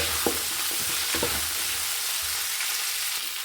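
Curry leaves frying in oil until crisp for spicy karapuri, a steady close sizzle punctuated by a few stirring clatters early on, then settling into an even hiss without voices.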